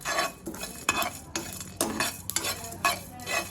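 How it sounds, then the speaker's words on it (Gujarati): Masala spices for Gujarati samosa filling roast in a hot pan while a spatula stirs them. Repeated scraping sweeps come in steady bursts over a faint sizzle, close up and clear, with no talking. "મસાલાને સરસ રોસ્ટ થવા દેવાના એટલે એનો ફ્લેવર સરસ આવી જાય"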